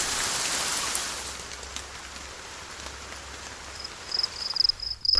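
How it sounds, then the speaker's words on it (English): Steady rain from a nature sound effect library, a dense hiss of drops falling on surfaces that stays even throughout, with faint chirping insects near the end and no voices. "Rain."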